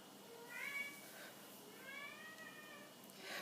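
A house cat meows in a kitchen during ravioli making, letting out two drawn-out, rising meows and the start of a third. The calls sound close but fairly quiet over low room noise, and no one talks over them.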